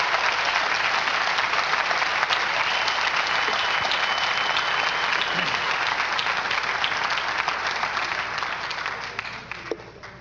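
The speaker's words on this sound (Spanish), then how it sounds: "A Él den un aplauso fuerte, al Señor Jesús." Sustained loud applause from a large church congregation, steady clapping throughout that tapers slightly near the end.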